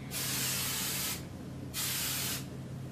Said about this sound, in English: then just hairspray it.